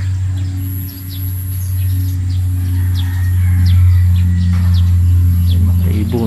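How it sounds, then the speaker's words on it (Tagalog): Birds chirp outdoors beside a grassy field, with repeated short tweets and occasional coos ringing out over a steady low hum, fairly close and clear throughout. "Yan mga ibon."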